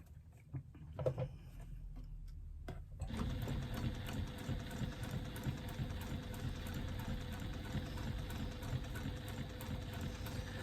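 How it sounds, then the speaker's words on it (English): A sewing machine top stitching quilting weight cotton starts after a few quiet seconds and then runs steadily with a fast, even mechanical patter, close and fairly quiet. "I'm now just going to top stitch down both sides using an 1/8 of an inch seam allowance"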